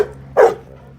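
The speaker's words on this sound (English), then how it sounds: "Seldom barks, but he's barking at the kitty." A dog barks once at a cat indoors, a single short, fairly loud bark standing alone against a quiet room background.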